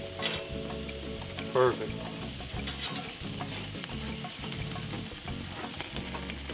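Onions sizzling and frying in a hot pan, steady loud crackle with scraping and stirring as they are turned over; a voice speaks briefly over the cooking.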